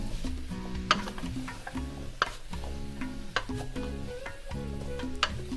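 A spoon stirs curried vegetables in a cooking pot, giving irregular scraping knocks and clinks over a low simmering sizzle, fairly quiet and close with no talking.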